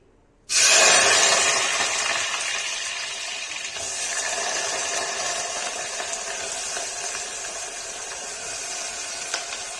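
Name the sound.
parwal (pointed gourd) added to hot oil, sizzling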